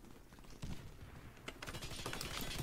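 Rapid machine gun fire in a Warface team deathmatch match, with dense bursts of shots that grow louder and more continuous in the second half, set over a busy game soundscape.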